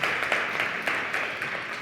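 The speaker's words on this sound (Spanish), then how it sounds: "el aplauso para la Academia" Brief applause from a conference audience for the Academy at a science and language event, a short burst of moderately distant clapping with a few sharper claps standing out.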